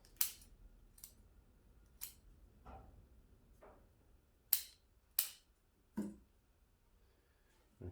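Scissors trimming a bonsai tree branch with about eight crisp, separate snips at uneven intervals, close and clear against a quiet background.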